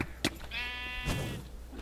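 A sheep in the Minecraft video game gives one clear, wavering bleat, preceded by a short click and a faint background hum, quiet overall.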